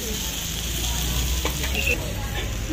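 Food sizzling and frying in a pan at a Christmas food stall in Baguio, a steady, moderately loud hiss running throughout with faint clatter.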